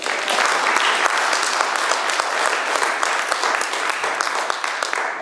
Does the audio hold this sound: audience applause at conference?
yes